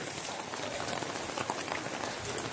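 Steady rain falls during a flood in Barangay Payatas, Quezon City, giving a dense, even hiss of drops on surfaces throughout, with no voices.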